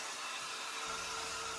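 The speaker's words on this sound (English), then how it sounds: "The key here is to attack it with a hair dryer." A hair dryer runs steadily close by, blowing air over buckled watercolor paper with a continuous even whir and no pauses or voices.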